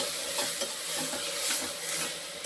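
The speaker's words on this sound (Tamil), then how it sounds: "இந்த இஞ்சி வெள்ளைப்பூடு பச்சை மிளகா இந்த புதினா மல்லிச்செடி வாட போகிற வரைக்கும் நம்ம நல்லா வதக்கணும்" Coarsely ground ginger, garlic, green chili, mint and coriander, still damp from washing, are being sautéed in a pan until wilted. There is a steady soft sizzle with light stirring scrapes, and no talk.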